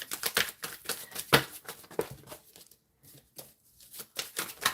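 A deck of tarot cards being shuffled close up, with busy riffling and flicking bursts that break off briefly in the middle before resuming.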